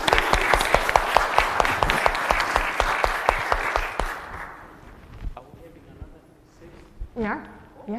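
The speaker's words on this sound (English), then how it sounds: "Let us clap our hands." A congregation at St. John's Lutheran Church in Lakeville claps hands together during a Tanzania celebration service, a steady rhythmic clapping that fills the first half, then stops and gives way to a voice talking.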